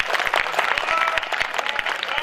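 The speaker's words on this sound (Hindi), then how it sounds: "आपकी कमजोर तालियां कविता को कमजोर कर देगी।" Dense clapping from a crowd at a Hindi poetry recital, a steady burst of many hands at once that stays full and loud throughout.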